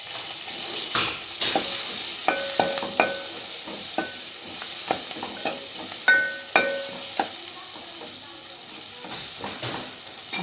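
Green chilies fry and get stirred in a pan, a steady sizzle and hiss running throughout with scattered scraping clicks and light metallic taps from the spatula, close and continuous with no talk.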